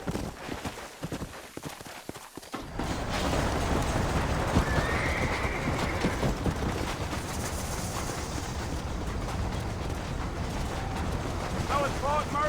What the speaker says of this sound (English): ain't gonna find sturdier horses than these in all of New Ulster